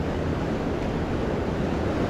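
Steady broadband ocean surf washes continuously along a shore, a dense, even roar with wind buffeting the microphone and no voices.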